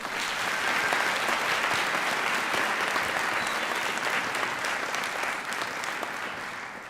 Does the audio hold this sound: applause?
yes